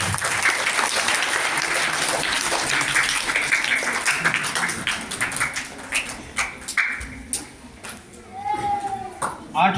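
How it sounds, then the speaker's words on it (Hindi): Audience applause at an annual prize distribution ceremony at Jamia Shah Waliullah as prize winners are announced, a dense sustained clapping that thins into scattered claps toward the end, with talk over it. "मुसम्मात सोनम। तालियां।"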